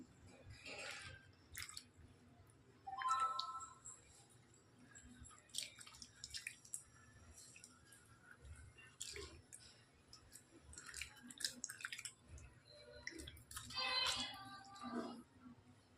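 One tomato is squeezed and mashed by hand in water for a raw tamarind rasam, making faint, close, intermittent squelches and drips with quiet pauses between squeezes.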